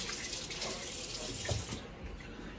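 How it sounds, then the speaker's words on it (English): A kitchen tap runs strongly as hands are washed, a loud, steady close-up gush that cuts off abruptly near the end, with no voices. "I'm gonna wash my hands real quick."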